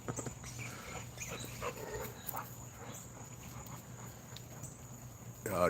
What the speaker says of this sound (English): these dogs right now, they hope one of these squirrels slip up and fall out the tree